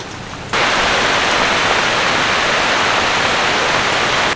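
Water boiling hard in a covered pot steaming rolled taro leaves, a dense, steady hiss and bubbling roar that starts abruptly after a brief quieter moment and holds loud and close without talk.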